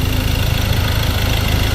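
An engine started for a test run idles quietly and evenly, a steady low hum with a faint vibration and no change in rhythm throughout.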